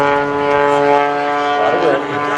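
Sean Tucker's aerobatic propeller airplane at the 2015 Rhode Island ANG airshow, a strong harmonic propeller drone holding steady and shifting slightly in pitch as it maneuvers, heard under a loud announcer's voice.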